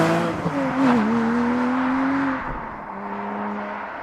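A Porsche 718 Cayman GTS 4.0 on the move, its engine revving up and holding a strong tone before the note eases off and settles lower, loud and close.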